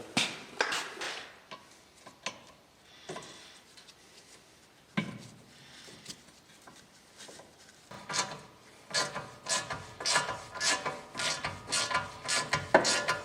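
Brake screws are driven by hand into a 2004 Saab 9-3 1.8t rear brake, with close ratcheting clicks and metallic taps, quiet stretches between, and a busier run of quick ratchet strokes toward the end.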